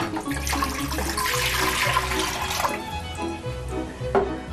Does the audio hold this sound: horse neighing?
no